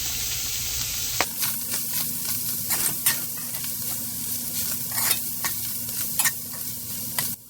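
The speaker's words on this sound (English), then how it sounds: "I'm going to give it a good mix." A pot of food with mild chili taco seasoning mix hisses steadily as a utensil stirs it in, with scattered scrapes and taps against the sides over a constant low hum.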